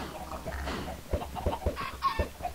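Minecraft chickens cluck in short, soft bursts, several quick clucks in a row, close and fairly quiet.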